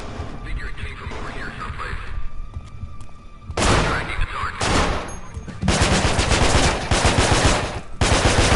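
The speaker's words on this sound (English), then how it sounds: "So I'm basically just running around shooting everybody." Gunfire in a Manhunt brawl video game, with bursts of rapid automatic shots and heavy blasts, quieter at first and then loud, dense volleys filling the later seconds.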